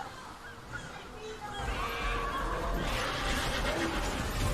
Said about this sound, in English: That's a cool looking horse.